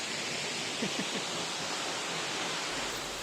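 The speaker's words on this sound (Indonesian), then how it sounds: "air terjun Ureng ini sempat viral" Ureng waterfall pouring steadily, a dense, even broadband rush of falling water that holds at constant loudness throughout, with no voices.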